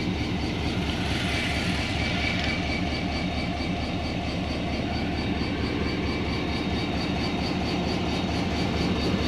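A Pakistan Railway HGMU-30 diesel locomotive stands on the main line at Sanawan station, coupled to a coal train. Its engine rumbles loud and steady, close by, throughout, with no speech.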